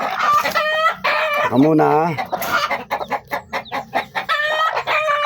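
Mother hen clucking close by among her newly hatched chicks, a run of short throaty clucks and a drawn-out call, with brief talk from a person mixed in.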